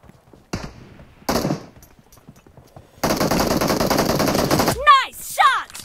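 Gunfire in the mobile game PUBG Mobile comes as a few sharp isolated shots, then a sustained burst of rapid automatic fire, followed by chirpy game effects.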